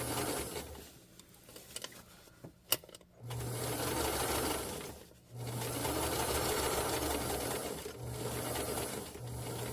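A sewing machine runs in long steady bursts while stitching leather piping onto a winter puffer coat, with a brief pause and a few clicks near the start, close and fairly loud, no talking.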